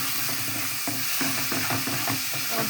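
Beans tipped into frying spice paste for a snakehead fish and taro stolon curry hiss in a steady, close sizzle, broken by repeated scraping stirs of a spoon through the pan.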